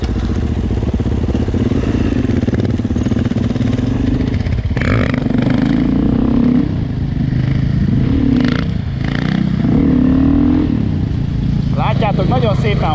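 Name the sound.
dirt bike motorcycle revving while doing a wheelie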